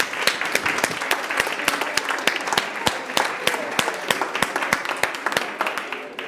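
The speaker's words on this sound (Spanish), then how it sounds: "vamos a dar un aplauso" Scattered applause from a church congregation during a Sunday sermon, individual claps sharp and distinct in an uneven rhythm throughout, with faint voices murmuring underneath.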